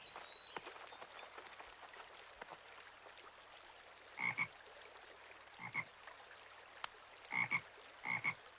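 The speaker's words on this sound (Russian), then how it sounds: "Знаешь, я видел лягушек в ручье." Frogs croak from a stream in short, bright bursts, a few separate calls spaced out over a quiet, faintly hissing background, fairly close and without voices.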